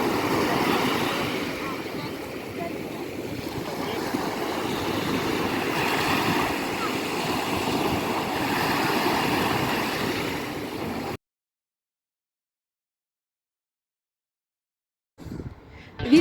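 Black Sea surf washing onto the beach at Odesa in late September, a steady broadband roar of waves that runs unbroken for about eleven seconds, then cuts to silence before a brief burst of noise at the end.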